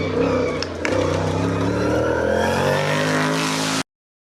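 A race car at the St Goueno hill climb roars close by, its engine rising in pitch as it accelerates past for about four seconds before the sound cuts off abruptly.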